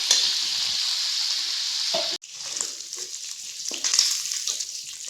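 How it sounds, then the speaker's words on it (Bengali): Prawns coated in salt and turmeric frying in hot oil, a dense, loud crackling sizzle that briefly drops out mid-way then resumes, heard close with no talking. "এখন ওই তেলের মধ্যে ভেজে নিচ্ছি চিংড়ি মাছগুলো"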